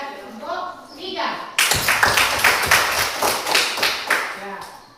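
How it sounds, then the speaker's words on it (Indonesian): Classroom applause for group 3, a burst of many hands clapping in a quick rhythmic beat that starts suddenly after a teacher's voice and continues loudly for several seconds. "kita beri aplaus kepada kelompok 3"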